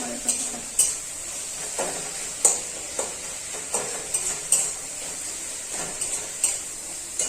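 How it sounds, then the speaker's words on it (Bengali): Metal utensil scraping and clinking in a wok with a soft sizzle underneath as spices are stir-fried, repeated stirring strokes at an irregular pace, close by. "নিরামিষ মশলা কষানো চলছে"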